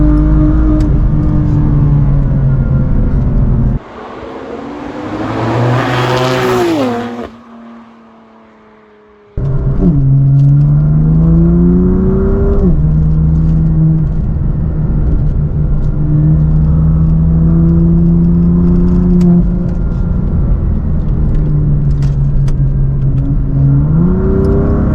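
A BMW M4 F82 engine accelerates hard through a gear, its note climbing steadily, then dropping at a shift with a brief lull before pulling strongly again and rising through the rev range, loud and close throughout.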